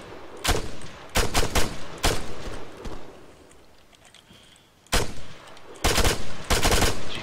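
Gunfire in Arma 3 Epoch during a truck battle: loud bursts of rapid shots come in clusters separated by quieter gaps, some sharp and close, with faint distant rumble between volleys.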